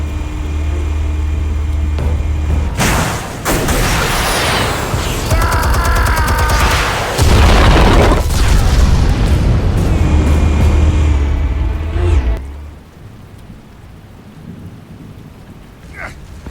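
Explosives detonate in Batman Telltale in a series of loud, rumbling booms with crackling bursts layered over them. They roll on for several seconds before cutting off abruptly into quieter background sound.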